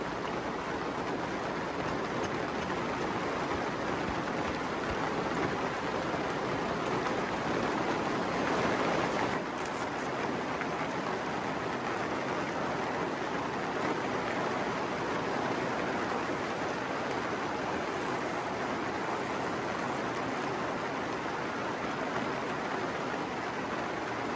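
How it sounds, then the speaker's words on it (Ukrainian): Heavy rain drums steadily on the thin plastic film of a greenhouse, a dense, continuous patter that holds at the same level throughout. "Гарний дощ пустився, тарабани по пленці."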